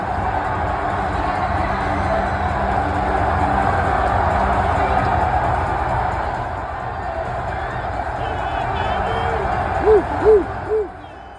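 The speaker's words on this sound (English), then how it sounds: "just listen to the crowd here as they storm the court" A college basketball crowd roars in a sustained, loud wash as fans storm the court after a program-defining win, with a few bright whistle-like whoops rising near the end.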